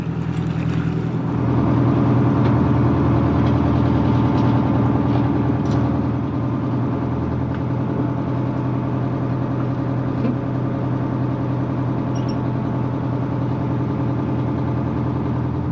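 A boat engine idles and churns steadily on a flooded river while it nudges another boat's stern around, giving a continuous mid-pitched motor drone with a slight rise in effort early on and no voices.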